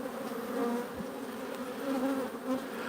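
Honey bees hum and buzz steadily around an open hive frame of brood, a close, continuous drone with slight rises and falls.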